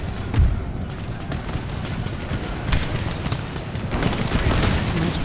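Musket volleys from a firing line in Empire Total War with Darthmod roll out as dense, continuous battle rumble, booming shots layered over one another and swelling near the end, with a voice talking over the din.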